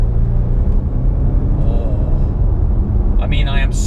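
An Audi RS6 Performance accelerating with short, early upshifts on a straight road, heard from inside the cabin as a steady, loud low engine rumble that swells slightly, with a faint higher whir near the end.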